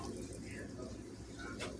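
Water, one and a quarter cups, is poured from a measure into a bowl of white box cake mix and vegetable oil, a brief steady trickling splash heard close.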